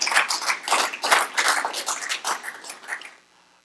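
A church congregation claps their hands together at a worship service, a dense burst of many hands applauding loudly and close, fading out after about three seconds.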